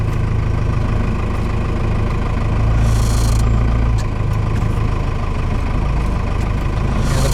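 A Cummins-powered truck with a Dana 44 straight front axle rumbles loudly while driving, a continuous low engine drone that swells briefly in the middle, with no talk.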